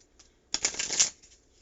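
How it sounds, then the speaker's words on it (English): A tarot card deck is shuffled once in a single quick, crisp riffle lasting about half a second, close to the listener against a quiet room. "I'm going to go ahead and cut the deck. I'm just going to give it a little shuffle."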